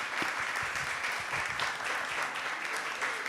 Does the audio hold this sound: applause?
yes